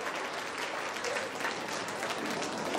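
Applause from the audience at a school annual day function fills the room, a dense, steady patter of many hands clapping that continues unbroken for the whole stretch.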